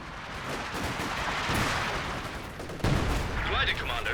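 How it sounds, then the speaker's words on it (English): Howitzer artillery fire from a base in Company of Heroes 2, a dense rumbling barrage of explosions and distant gunfire with a heavy impact near the middle, mixed under battle noise and game effects. "Some base howitzer fire coming in"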